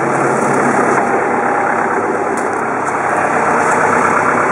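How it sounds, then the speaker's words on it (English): Caterpillar 906H wheel loader with 190 hours, its diesel engine idling with a steady, loud, continuous broadband drone and no talk. "So yeah, that's my Cat 906H."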